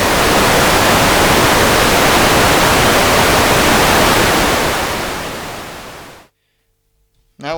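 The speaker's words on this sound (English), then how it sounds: "First we will listen to the plain white noise to the output." Steady, loud broadband hiss of white noise fills the air for about six seconds, fades slightly, then cuts to silence before a brief burst returns.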